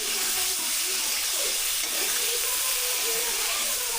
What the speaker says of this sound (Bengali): পুরো ফ্যাটা তেলে বেগুনগুলোকে দিয়ে দিলাম, দেখতেই পাচ্ছেন কেমন হচ্ছে।